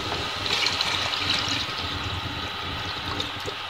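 Water pours steadily into a cooking pot of rice, a continuous rushing splash, close by and fairly loud throughout, with no talking.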